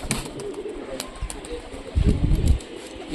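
Rajshahi Giribaz pigeons coo in low, throaty bursts close by, with a louder rumbling stretch near the end and faint sharper chirps and rustles mixed in.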